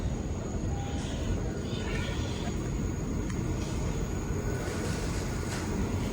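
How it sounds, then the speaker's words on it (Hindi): A Dubai Metro train approaching the platform gives a steady, low, broadband rumble that holds evenly throughout, with no voices. "अभी मेट्रो आएगी इधर से, इस साइड से"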